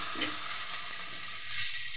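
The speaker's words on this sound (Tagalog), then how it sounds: "Ganyan ang paghahalo at pagigisa ng bawang at sibuyas." Garlic and onion sauté in a pan, stirred steadily with a close, continuous sizzle and soft scraping, fairly quiet with no talking.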